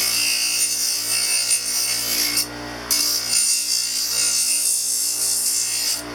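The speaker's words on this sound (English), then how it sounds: "what I'm doing with this large stone is just the shaping and the thinning" A large dental grinding stone thins and shapes a thumb partial denture, giving a steady, close abrasive whir with a low motor hum beneath and a brief dip partway through.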